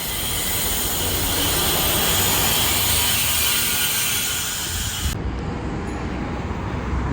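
A loud, steady jet roar from an airplane flying low near the airport in Singapore fills the street scene, holding constant before dropping off sharply toward the end.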